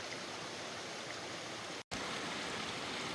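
A creek on a hiking trail to Lee Falls rushes in a steady, close, even hiss of flowing water, with a brief dropout near the middle.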